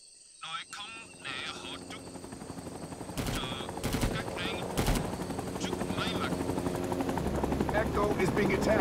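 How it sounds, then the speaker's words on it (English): SAM missile targeting warning aimed at a helicopter in Rising Storm 2 Vietnam, a steady high warning tone running over rotor noise and bursts of gunfire that build into a dense battle din. "If your helicopter gets targeted by a SAM, it will sound something like this."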